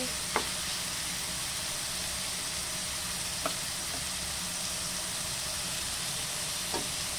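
Mung bean stew with pork feet sizzles steadily in a pan while a utensil stirs it, a constant close frying hiss broken by a few faint clicks of the spoon against the pan.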